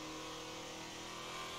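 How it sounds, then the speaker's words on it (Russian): A car engine in the video game GTA 5 roars with a steady, dense revving drone that runs unbroken for the whole short stretch, fairly quiet in level. "У меня мотор так сильно ревет прям."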